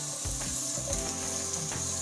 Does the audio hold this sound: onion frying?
yes